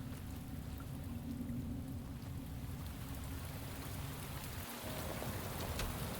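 Steady rain falling in the Shadows of Doubt video game, a continuous even hiss of drops with no talking, holding almost unbroken throughout.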